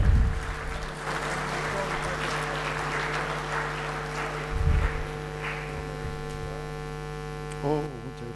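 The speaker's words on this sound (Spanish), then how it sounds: "Un fuerte aplauso, por favor." An audience at a petroleum industry lecture gives sustained applause, a broad crackling wash over a steady electrical hum that thins out toward the end as a few voices come through.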